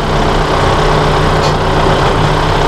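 A tractor engine runs steadily at close range while its loader bucket sits in float position, a constant low rumbling drone with no breaks or pauses.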